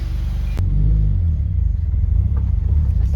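A Subaru WRX with an FA20DIT engine fires up with a sudden thump, then holds a deep, loud, close rumbling idle with slight rhythmic pulsing.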